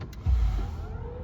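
A BMW iX1 plays its startup welcome sound, a short low swelling chime with a soft deep rumble inside the cabin, lasting about a second.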